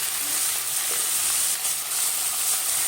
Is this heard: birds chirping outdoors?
no